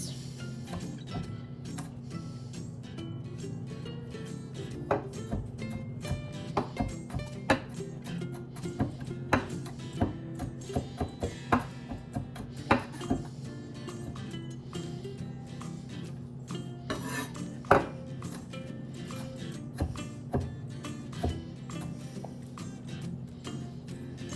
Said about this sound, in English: I'm gonna chop back over that a couple more times.